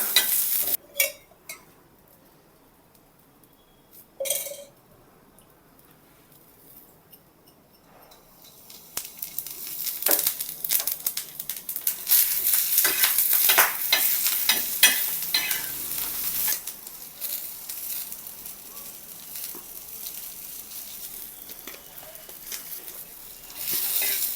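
Green chillies with cumin seeds frying in a pan, a loud continuous sizzle with stirring scrapes, quieter at first with a few clinks, then building into dense crackling hiss for the rest.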